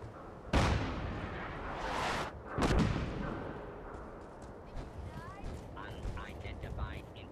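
Incoming artillery fire in Fallout 4, with two heavy booming blasts close together early on, a lingering rumble, then quieter crackling and scattered small pops.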